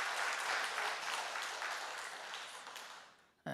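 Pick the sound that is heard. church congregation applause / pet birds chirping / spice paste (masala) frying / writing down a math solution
church congregation applause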